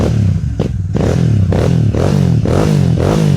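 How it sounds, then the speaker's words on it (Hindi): An army-green Royal Enfield Shotgun motorcycle with 3,000 km on it and a Royal Bull exhaust revs up close, its deep thumping engine rising and falling in repeated throttle blips. "एक बार जल्दी से इसकी आवाज़ सुन लो आप बाइक की। भाई ये है रॉयल एनफील्ड की शॉटगन"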